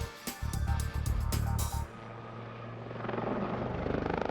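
A helicopter flying a loop roars close by with pulsing rotor thumps, then its engine whine drops to a steadier, lower drone as it moves through the air.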